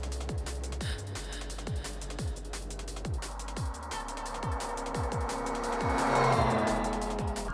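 Electric ATV SE Tundra 4x4 quad accelerating on asphalt toward top speed, a rising motor whine and tire hum building steadily as it speeds up, with repeated rhythmic thumps throughout.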